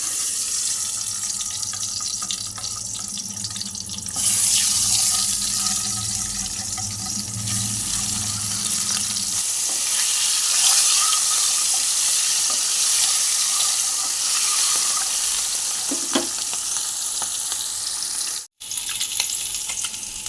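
Cauliflower pieces coated in salt and turmeric fry in hot oil in a wok, giving a loud, steady, close-up hiss and sizzle that carries on without a break.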